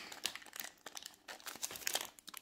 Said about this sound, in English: Last packet, we'll open this up.